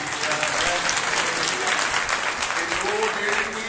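Steady applause from a church congregation at a Sunday preaching service, many hands clapping continuously and fairly loudly throughout, with no break.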